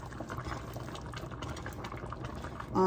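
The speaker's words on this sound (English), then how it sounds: "So I'm just going to pour this in." Steady dumpling sauce pouring into a pot of chicken, a continuous splashing stream that runs without a break, ending in a brief louder clatter.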